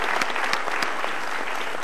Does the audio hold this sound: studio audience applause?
yes